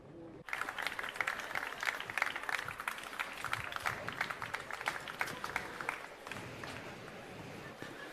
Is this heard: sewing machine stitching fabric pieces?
no